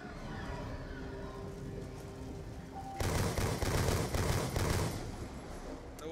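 A machine gun firing in Black Ops 2 Zombies on the Alcatraz map, a sudden sustained burst of rapid shots that starts loud after a quiet stretch of game ambience and runs for about two seconds.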